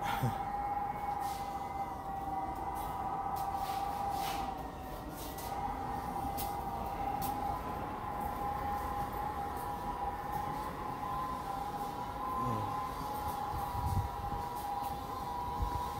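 A Paris Métro Line 14 MP14 train arrives on the southern extension, filling the platform with a continuous loud whoosh of moving air and a steady tonal hum from the train for the whole stretch, no voices.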